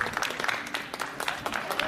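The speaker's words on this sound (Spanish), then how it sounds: "Un fuerte aplauso para él." Crowd applause greets the sixth runner crossing the finish line of the 15th Aguilar de Campoo marathon, an irregular patter of clapping mixed with background crowd noise and some voices over just under two seconds.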